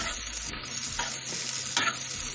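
Chicken for shawarma sizzles and fries in a pan, with a steady crackle broken by a few spoon-stirring scrapes, close and fairly quiet, with no voices.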